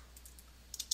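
A few quick keystrokes on a computer keyboard while text is entered in Flash CS5, clustered near the end as light, close clicks with no talking.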